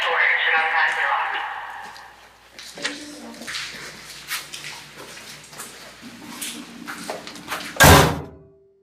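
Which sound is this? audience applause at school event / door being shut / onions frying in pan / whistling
door being shut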